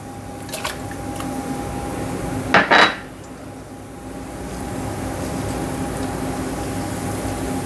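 Ginger garlic paste goes into a pan on a low flame for chicken pickle, with a brief metallic clatter and scrape of a utensil against the pan, then a steady low kitchen hum.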